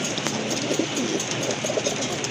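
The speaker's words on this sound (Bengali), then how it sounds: "কত সুন্দর কালারের এক জোড়া সুয়া চন্দন কবুতর" Soft cooing from a pair of large fancy pigeons kept for sale, low murmuring calls faint beneath steady background hiss and distant noise, no voices.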